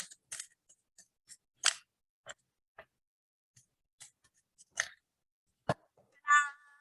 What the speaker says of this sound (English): I'm going to cut the side